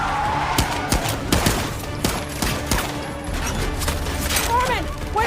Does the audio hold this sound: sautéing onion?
no